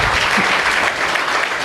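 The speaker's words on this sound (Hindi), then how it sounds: "एक बार पुनः तालियों से स्वागत।" A crowd applauds in welcome at a Brahma Kumaris class in Neemuch, a loud, steady burst of clapping that holds evenly across the short moment.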